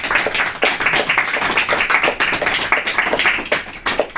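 A live audience claps steadily after a book presentation, a dense, even patter of many hands filling the room for the full stretch without pause.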